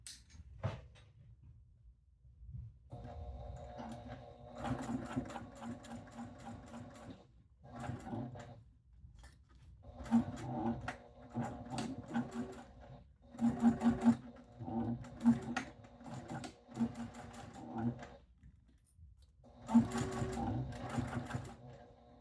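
Bursts of rapid mechanical stitching from a sewing machine run along a fabric pouch seam, several runs of a few seconds each separated by quiet pauses, close and clear.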